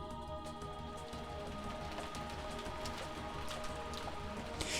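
Steady rain pattering in the Umineko visual novel game, an even, continuous wash of drops on surfaces with faint tapping details, with no talking.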